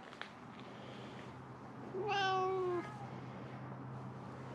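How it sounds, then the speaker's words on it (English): A cat meows once, a single clear drawn-out call close by, standing out over a low steady hum with quiet surroundings and no talking. "I like kitties. Kitties are nice."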